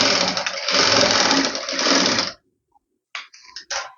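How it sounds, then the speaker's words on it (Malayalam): A sewing machine runs steadily for about two seconds, stitching a half-inch seam on a pleated nightie, then stops. A few short, sharp mechanical bursts follow after a pause, with no talking. "ഇതേപോലെ തന്നെ നമുക്ക് 1/2 ഇഞ്ച് വീതിയിൽ തയ്യൽ തുമ്പ് ഇട്ട് കൊടുക്കുക"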